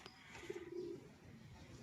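A pigeon coos softly once in a short, low, steady hum against a quiet outdoor background.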